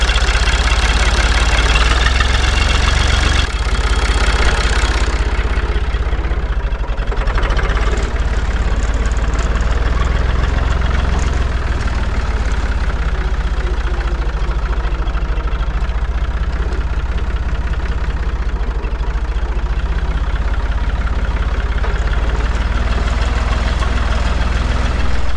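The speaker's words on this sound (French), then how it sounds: "Donc là je change de tracteur" A tractor engine idles steadily in a greenhouse, a loud continuous low mechanical rumble with a slight knocking texture that holds for the whole stretch.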